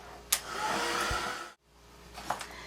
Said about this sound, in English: I'm just going to dry this before that mist starts to go into places it shouldn't.